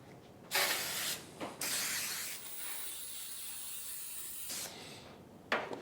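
Baking spray hissing from an aerosol can onto an aluminum cake pan: a first short burst, then a long steady spray of several seconds and a brief final burst, close and clear with no talk.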